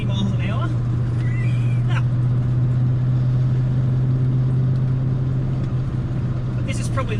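A Ford Falcon XW GT with a 351 Windsor V8 driving at around 60 miles an hour, its engine a steady, loud low drone heard from inside the car without letup.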